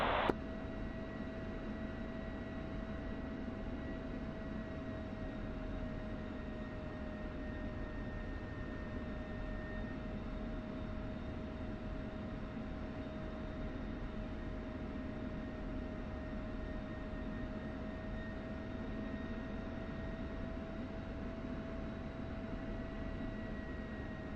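Two F-16 fighter jets taxiing toward the runway end, a loud steady turbine whine with constant high-pitched tones over a dense roar, unbroken throughout with no talk.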